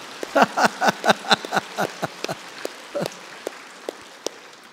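A burst of hand claps from a small group at a church service, a dozen or so sharp claps in quick succession that thin out into scattered single claps.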